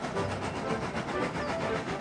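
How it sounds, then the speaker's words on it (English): A steam train setting off in a Thomas and Friends story, with a steady rhythmic chugging and rumble running throughout at moderate loudness. "Edward cheerfully buffered up and the strange train set off."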